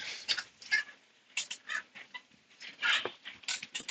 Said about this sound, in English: Sorry, there's a dog there.